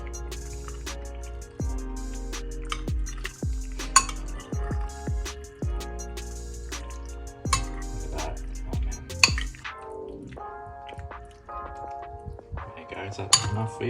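Utensil scraping and clinking against a pan while pasta is stirred through its sauce, repeated close-up knocks and scrapes over about fourteen seconds with faint liquid sounds and no talking.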